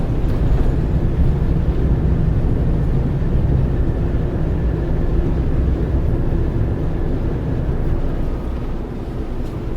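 A twin-engine yacht's starboard engine runs in reverse while docking at a river marina, a loud, steady low drone and churning rumble close by, continuous with no talking.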